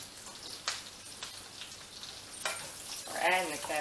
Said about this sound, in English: I will go ahead and start adding the cabbage back in